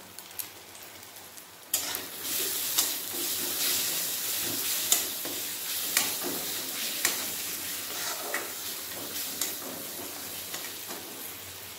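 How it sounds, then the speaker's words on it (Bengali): Spice paste of turmeric, cumin, chili and coriander powders sautés in a pan for a Bengali katla fish curry, a loud continuous sizzle starting abruptly, with regular soft scraping taps as it is stirred. "মশলা ভালোভাবে কষিয়ে নেব।"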